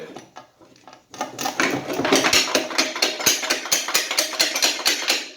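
Pry bars work a pressure washer pump coupler loose from the motor shaft, making a rapid, steady series of close metallic knocks and rattles that runs nearly the whole time after a brief quieter start.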